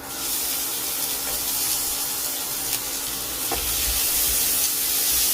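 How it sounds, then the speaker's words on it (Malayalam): Chopped onion dropped into a pan of frying ginger and garlic: a loud, continuous close-up sizzle with some stirring and scraping, and no talking. "അതിലേക്ക് അരിഞ്ഞു വെച്ചിരിക്കുന്ന സവാള ചേർക്കാം"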